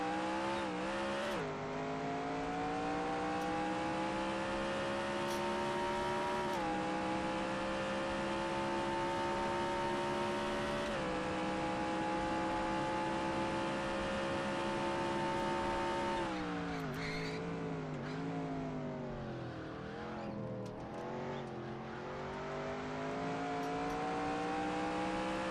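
Race cars in the 2011 NAPA Auto Parts 200 roar around the track, a continuous loud engine drone with sustained high revs, pitch dips and rises as cars brake and accelerate through turns, dense overlapping engines with no talk.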